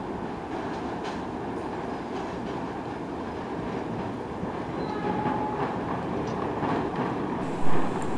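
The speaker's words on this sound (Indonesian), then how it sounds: "itu dia kereta api Lodaya" The Lodaya passenger train rolls by at steady speed, continuous rumbling with rhythmic clatter of wheels over the rails.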